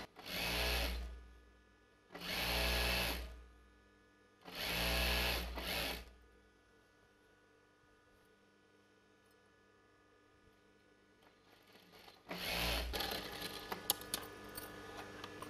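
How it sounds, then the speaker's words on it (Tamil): A sewing machine stitches the folded hem of a Patiala pant in three loud, close bursts of whirring, then pauses with faint handling sounds before a fourth run begins. "இப்போ இந்த பாட்டம் வந்து நான் மடித்து தைச்சிக்கிறேன்."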